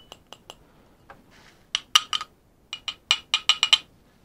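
Plastic skull-shaped shot glasses made to look like glass tap against each other in light, bright clinks, first a few sparse taps, then a quicker cluster of sharper knocks, close and fairly quiet.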